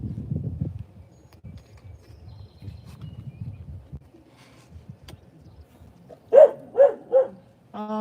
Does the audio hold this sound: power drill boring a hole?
no